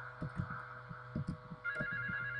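A phone booth telephone rings in the video game GTA III, a rhythmic electronic trill in short repeated pulses over a steady low hum, ending with a brighter tone.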